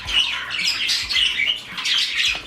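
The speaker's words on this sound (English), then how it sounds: "I just wanted Jingles to meet all my other birds" A flock of pet birds, including cockatiels, squawks and chirps indoors in loud, constant overlapping bursts with no pauses and no speech.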